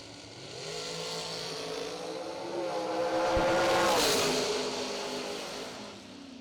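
Drag race cars charging down the track at a Million Dollar Race event, engine roar swelling and climbing in pitch as they pass fairly close, then fading away.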